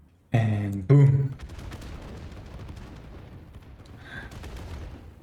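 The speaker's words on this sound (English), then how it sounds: "That's a lot of explosions" Nobelisk explosives detonate in the video game Satisfactory, two loud booming blasts in quick succession followed by a long rumbling, crackling decay and a faint distant pop.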